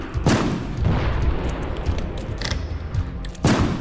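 Laser blasts fire during a boss fight in a meat-themed video game, arriving as heavy booming bursts, a sharp one near the start and another near the end, with rumbling impacts between.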